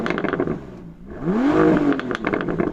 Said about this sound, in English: Daniel, can you rev up your car and let us hear its W12 engine?